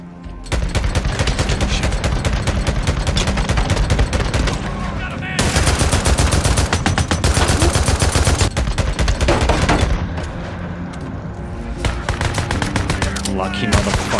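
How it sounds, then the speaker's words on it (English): Dense bursts of automatic gunfire fill most of the stretch in the video game Days Gone during a sawmill horde fight, loud and near, with short pauses between volleys and a voice talking intermittently. "I'm gonna go gun blazing"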